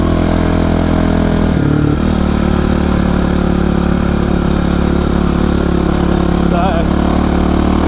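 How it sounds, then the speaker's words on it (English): A Kawasaki KX450F motocross dirt bike engine idles loud and close with a steady rumble, a brief dip in revs partway through, and someone speaks a word over it. "Has been a few years since I've been on a dirt bike"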